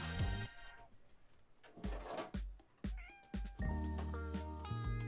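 Several loud, close cat meows in quick succession, some drawn out and wavering, with a few soft knocks between them.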